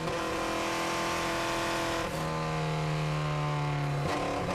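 A vintage racing car at a hillclimb or circuit event runs with a sustained engine note that sounds slightly rattly and unhealthy, steady and fairly loud, with a drop in pitch midway as the driver shifts or lifts off.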